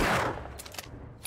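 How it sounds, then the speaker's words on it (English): A burst of gunfire in the zombie survival game 7 Days to Die, a loud opening blast decaying quickly, followed by a couple of sharper, fainter shots. "I shot that guy in the head"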